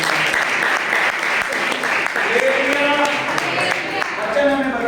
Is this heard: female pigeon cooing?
no